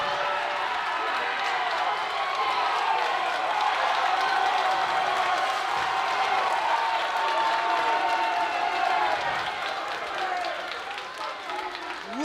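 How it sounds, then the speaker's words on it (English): Wrestling crowd at an indie show roaring and cheering after a moonsault, with sustained dense applause and whoops filling the whole stretch, loud and close, with a commentator talking over it. "Listen to this crowd as we look at this replay"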